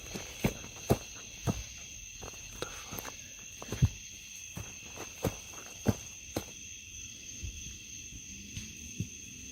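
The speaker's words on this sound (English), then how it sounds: "he begins hearing movement around him. Soft footsteps, rustling branches" Footsteps crunch through woods at night, a slow irregular series of soft, close steps over a faint steady insect chirr.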